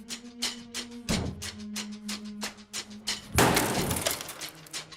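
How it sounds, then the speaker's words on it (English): Glass is struck and broken with a tactical pen's glass breaker, giving a run of sharp rapid taps followed by a loud crunching shatter and tinkling debris, close and clear without speech. "that was Tim Kennedy breaking some glass"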